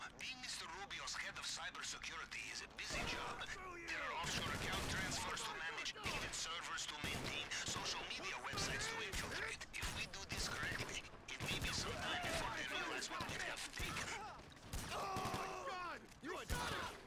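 Gunfire in a GTA Online mission crackles in dense, steady bursts through most of the stretch, mixed with game clatter and someone talking over it.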